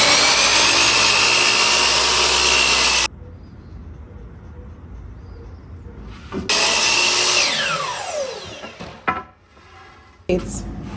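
A power tool trimming wood on a dresser base cuts in loud, steady whining bursts, first for about three seconds, then again after a quiet pause, followed by a short final burst.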